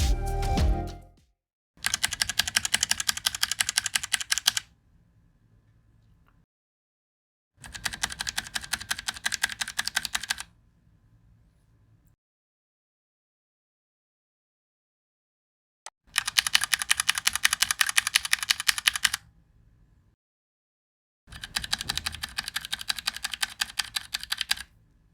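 Typing on a Glorious GMMK TKL mechanical keyboard fitted with silent switches, several bursts of soft, rapid, muffled key clatter separated by silent gaps, close and fairly quiet.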